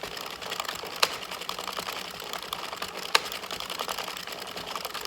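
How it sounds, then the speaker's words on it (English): An Addi circular knitting machine being cranked through rows of yarn gives a steady, soft mechanical rattle of needles and gears. Two sharper clicks break through, and no one speaks. "Okay, so now I'm going to crank out 10 rows."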